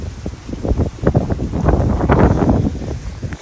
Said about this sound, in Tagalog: Grabe, ang lakas ng hangin mga kachika.